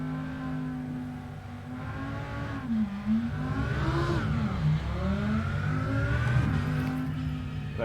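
Race car in a Nürburgring 24-hour racing video game, engine note rising and falling steadily as it revs and accelerates through the gears, continuous and fairly loud with a droning background hum.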